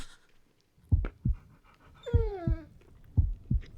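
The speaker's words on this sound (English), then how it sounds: "Norville, that dog is big and brown, which is the exact opposite of Fred's tiny" A big brown dog pants in short, close bursts, with a brief whimpering whine in the middle, then more heavy breaths.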